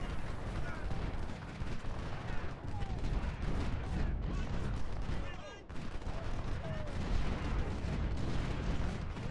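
Musket volleys crackle continuously in an Ultimate General: Civil War battle at First Bull Run, a dense, overlapping rattle of shots with booming reports, sustained throughout and fairly quiet overall.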